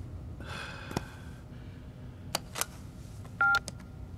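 A telephone number is dialed in a Mumbai police drama scene: scattered clicks and soft breaths, then a clear, short keypad tone near the end, quiet overall.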